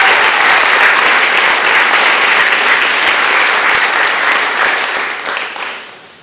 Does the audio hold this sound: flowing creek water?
no